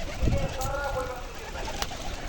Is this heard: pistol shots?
no